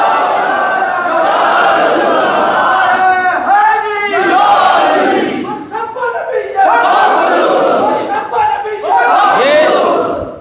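A large crowd at a religious gathering chants a slogan in loud, rhythmic unison, the voices swelling and falling in repeated waves close and dense.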